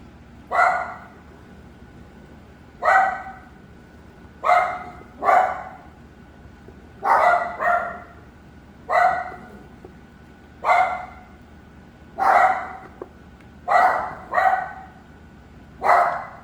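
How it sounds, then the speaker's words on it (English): Dogs bark outdoors in single and paired barks at irregular intervals, moderately close and loud against a quiet background, with no talking. "Sorry about the dog there."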